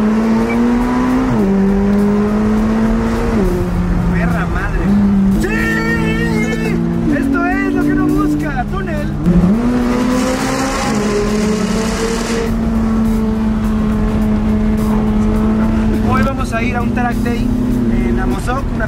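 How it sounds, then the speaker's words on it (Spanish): A McLaren 600LT sports car engine drones loudly and steadily, its exhaust note rising and falling through repeated revs over about nineteen seconds, with a voice speaking over it in places. "Yo voy a escuchar sus escapes tirafuego."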